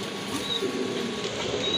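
Racing pigeons, including a pair of racers offered for sale, coo softly and steadily over a continuous low background murmur.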